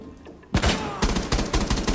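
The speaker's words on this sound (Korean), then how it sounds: "와 저 자식들 저거 끊어치기 쏘네." Gunfire in the tactical shooter Rainbow Six Siege: loud, close shots fired in short controlled taps, one sharp burst followed by a quick rhythmic string of rapid cracks.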